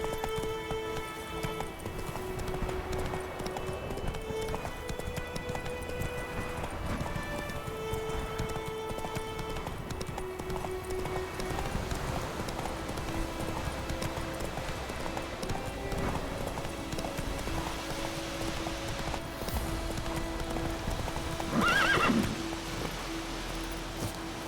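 Roach, the horse in The Witcher 3, gallops in a continuous run of hoofbeats over a steady bed of in-game music and ambience, ending in a short, higher neigh near the end.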